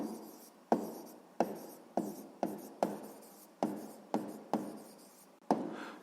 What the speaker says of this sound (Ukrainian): І записуємо відповідь